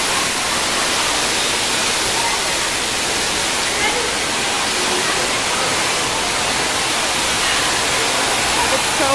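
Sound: water park with rushing water

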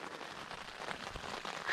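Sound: rain falling

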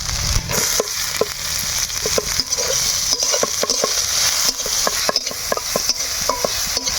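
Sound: chopped onion frying with ginger and garlic in oil

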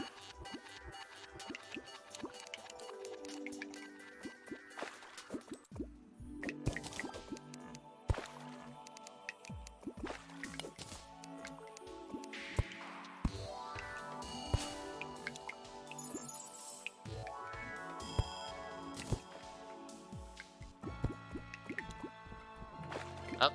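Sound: water dripping into a water farm in Terraria video game

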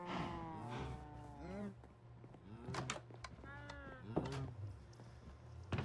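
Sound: cows mooing in Minecraft video game

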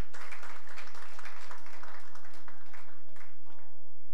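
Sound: applause for Madame Manga

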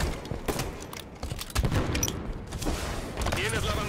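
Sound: gunfire in a shooter video game match

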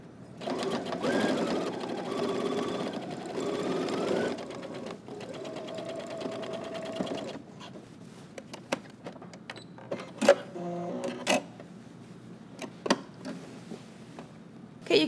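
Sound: sewing machine top stitching a pants fly front

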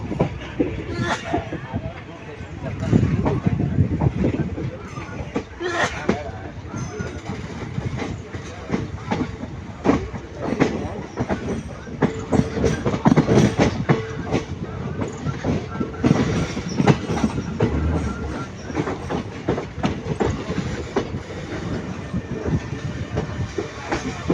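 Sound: passenger train running on rails, Karur to Mangalore route

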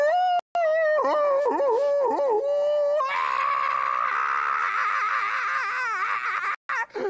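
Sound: man imitating a howling dog

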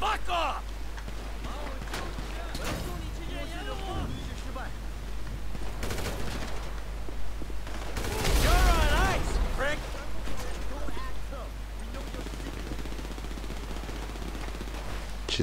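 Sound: gunfire in the video game Grand Theft Auto V

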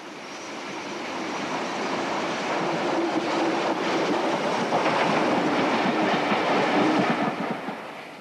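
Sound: steam locomotive 34046 Braunton leaving Twerton Tunnel

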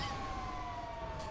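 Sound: police siren on a vehicle in the video game GTA 5

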